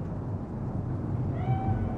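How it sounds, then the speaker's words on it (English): A cat in the video game Cyberpunk 2077 gives a single short, rising meow late in the moment, fairly faint over a dense, low rumbling ambience. "Chill. It's just a cat."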